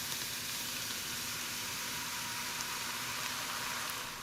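Sauce poured into hot garlic-ginger oil in a pan while cooking Korean fried chicken, giving a steady, even sizzle with a bright hiss that holds unbroken throughout, alone and close up.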